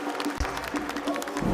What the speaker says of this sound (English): Give him a round of applause here, folks.